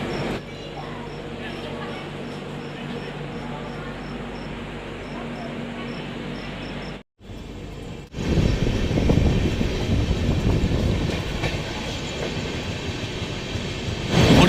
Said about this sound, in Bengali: আমাদের ট্রেন ছেড়ে যাচ্ছে দুর্গাপুর জাংশন থেকে